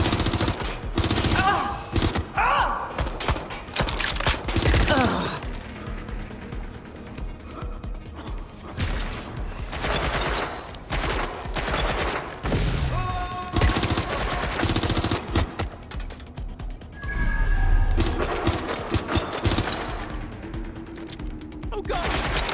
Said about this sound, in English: Taking fire! Help! I'm being shot!